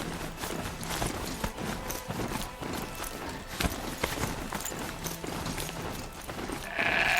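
A goat's bleat amid hurried, continuous clip-clop footfalls on a snowy mountainside in the video game Horizon Zero Dawn The Frozen Wilds, busy and mid-level with steady game ambience.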